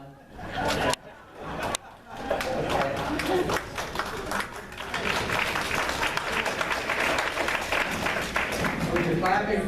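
An audience at a candidates night breaks into sustained clapping that swells and holds, with chatter and some talk underneath.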